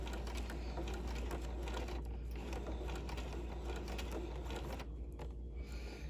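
A sewing machine stitches close along a zipper stitch line on a lined garment, giving a steady, close mechanical whir and rapid clatter that runs without a break.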